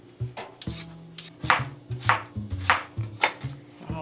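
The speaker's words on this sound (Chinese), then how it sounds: "我要开始削皮" Kitchen prep while readying ingredients such as pork intestines and ribs, with rhythmic scraping and knife strokes against a board about twice a second, close and clear, with faint background hum.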